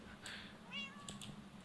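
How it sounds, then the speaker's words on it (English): A single drawn-out meow from a cat in the Minecraft video game, fairly close and clear, over a constant low background hum with a few soft clicks around it. "let's just ignore the cat sounds for now"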